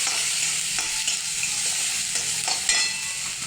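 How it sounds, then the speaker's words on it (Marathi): Spices including turmeric, garam masala and kitchen king masala are stirred into a sizzling tomato curry base in a pan, a close spoon scraping over steady frying hiss, with no voices. "हळद घालून घेऊया थोडी थोडा गरम मसाला थोडा किचन किंग मसाला आणि तो छान हलवून घेऊया"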